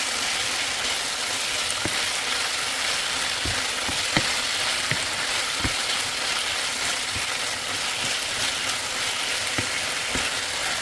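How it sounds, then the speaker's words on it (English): Beef browning in hot oil in a large pan, a steady sizzle with occasional sharp pops and crackles throughout. "In a large pan, I'm adding oil and then brown the beef."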